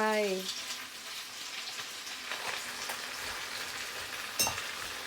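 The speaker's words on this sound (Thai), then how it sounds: "ใส่หอยนางรม เอาใส่ผักลงไป" Cabbage stir-fried in a pan with oyster sauce and egg, a steady close sizzle and hiss of frying with occasional scrapes of stirring, plus a brief tonal clatter at the very start.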